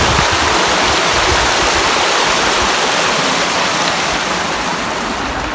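Spring-fed river water rushing over rocks at Pedernales Falls, a loud, dense, continuous roar of flowing water heard close up, steady throughout with no talking.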